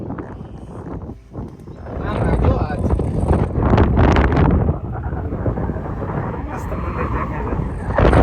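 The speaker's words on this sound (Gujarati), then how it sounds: "ફોન હાથમાંથી ઉડી જાય એટલો પવન આવે છે" Strong wind gusts buffet a phone microphone on a ropeway cable car ride, roaring loud and steady for most of the stretch while people talk underneath.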